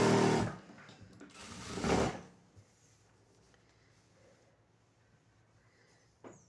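A home sewing machine runs two short bursts of stitching through four layers of diaper fabric, each about half a second to a second long, followed by quiet handling and a faint click.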